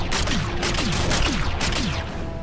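Gunfire in the video game Infinite Warfare, a dense run of sharp repeated shots with mechanical clatter, loud and sustained throughout with no talk.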